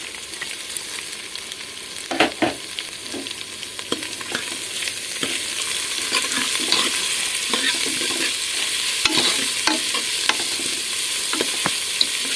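Onions and green chillies fry with prawns in a hot pan, a continuous close sizzle punctuated by frequent clacking stirs of a spoon against the metal.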